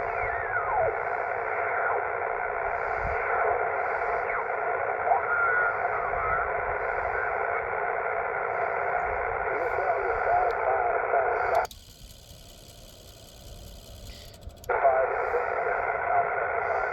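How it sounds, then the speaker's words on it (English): Ham radio receiver with a 3D printed tunable 40m coil, used portable, gives a steady band of hiss and faint signal for about eleven seconds, then briefly cuts to thinner higher noise before the receive comes back up. "You can hear the receive come up too."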